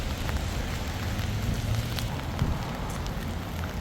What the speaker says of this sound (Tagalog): Payong kami kasi umuulan.